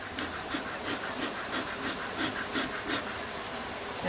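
A dense, steady hum of many honeybees buzzing close by in an opened hive, droning continuously with slight swells in loudness.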